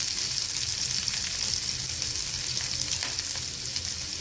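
Green chillies hit hot oil in a frying pan while vegetable Maggi is cooked, giving a loud, continuous close-up sizzle with faint stirring and no talk.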